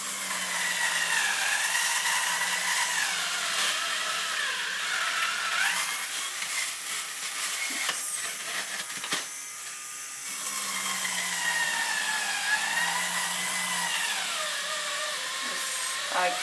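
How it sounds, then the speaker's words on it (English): A power drill whines in long bursts drilling holes in a Lego craft tool machine, pausing briefly midway before spinning up again, close and loud. "So just drill a couple of holes around here."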